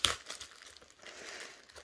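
Thin decorative paper being crumpled and crinkled by hand, a sharp rustle at the start followed by softer, irregular crackles, close and quiet.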